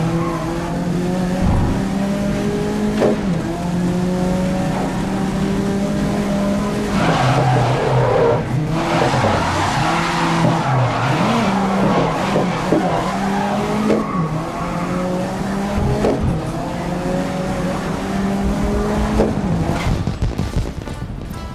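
Race cars skidding in GRID (2019), a loud continuous engine drone with long tire squeals and shifting revs as cars slide through corners, close and sustained.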